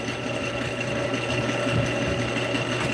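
A wood lathe spins a bowl blank in a turning shop, giving off a steady close mechanical hum with a faint rhythmic rattle throughout and no talking.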